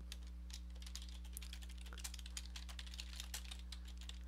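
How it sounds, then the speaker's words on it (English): Rapid keystrokes on a computer keyboard, a steady run of light clicks heard faintly over a constant low electrical hum. "I'm typing it."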